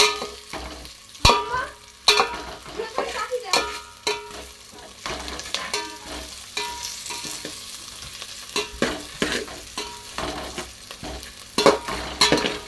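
Curry leaves frying and sizzling in a pan, with repeated sharp scrapes and clinks of stirring over a continuous crackle, close and fairly loud.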